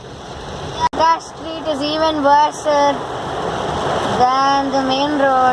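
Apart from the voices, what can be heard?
heavy rain water splashing in city street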